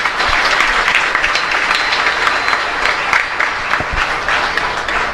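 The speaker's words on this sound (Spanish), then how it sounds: "Aplauso también para ustedes." A congregation at Mass in a parish church in Asunción claps in a steady, full round of applause, dense and even throughout, with a few louder individual claps standing out nearby.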